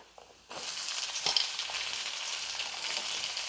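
Onions dropped into hot oil with lentils and dried red chillies for dosa chutney: a quiet start, then a sudden loud hiss settling into a steady close sizzle, with no talking.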